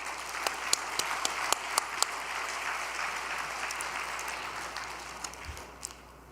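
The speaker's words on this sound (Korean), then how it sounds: "우리 두 분에게 박수 한번 올려드립시다." Audience applauding at a talk, dense sustained clapping with a few sharp louder claps, tapering off toward the end.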